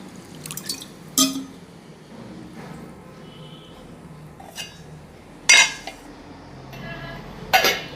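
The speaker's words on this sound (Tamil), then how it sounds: "ஒரு கப்பு இட்லி புழுங்கல் அரிசி இதை நல்லா கழுவி களைஞ்சிட்டு" Parboiled idli rice is rinsed in water in a kitchen vessel, giving close, intermittent sloshes, splashes and drips with a few light clinks against the container between quieter stretches.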